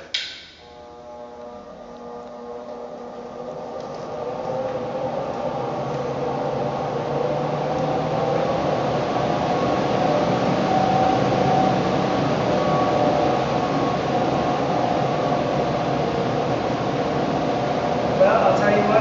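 A blower door fan runs inside a tightly sealed home during an air-tightness test, its steady loud broadband whoosh and low hum rising at the start and then holding level throughout.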